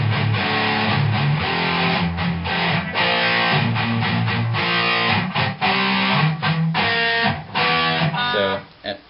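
A distorted electric guitar chugs through the riff in power chords, a steady, loud, driving pattern with brief choppy gaps and rhythmic accents, played alone without speech.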